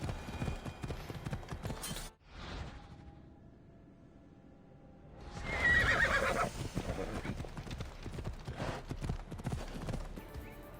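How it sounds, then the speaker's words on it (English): Horse hooves clip-clop steadily throughout, and a loud whinnying neigh rises in the middle before the hoofbeats carry on. "I need to take this horse"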